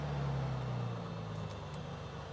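Maule M7-235 aircraft engine idling in Microsoft Flight Simulator, a steady, low, humming drone with a faint tonal whine, heard alone at moderate volume.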